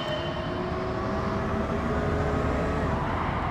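A Porsche Vision Gran Turismo in the Gran Turismo video game gives a loud, steady engine drone with a smooth rising tone that holds without a break.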